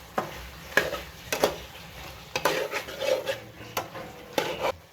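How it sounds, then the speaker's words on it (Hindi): Chicken keema being stirred in a pan, a spoon scraping and clinking against the metal in irregular strokes over a faint steady background, with no one speaking. "अब हम इसको मिक्स कर लेंगे।"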